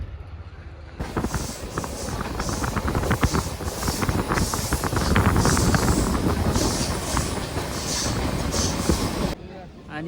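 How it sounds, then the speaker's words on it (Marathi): A Mandovi Express train pulls into Khed station, a long rumbling and clattering rail noise with rhythmic wheel knocks, heavy wind buffeting the microphone and a crowd murmuring on the platform. "ट्रेन पण आलेली आहे"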